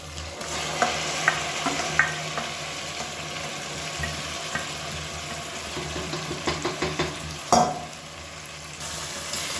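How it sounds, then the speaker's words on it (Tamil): Marinated chicken tipped into a hot pan for a Tamil-style chicken gravy, sizzling and frying steadily with scattered stirring clatters and a louder scrape near the end. "நம்ம வந்து ஊற வச்சுருந்தா இந்த சிக்கனை சேர்த்துக்கலாம்."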